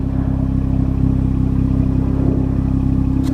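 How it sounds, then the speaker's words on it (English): An Acura Integra idles with a loud, close exhaust burble, a low, rapid, evenly pulsing rumble that holds steady throughout, with no voices. "let me get a sound clip of the exhaust real quick. Again, it kind of has a burble."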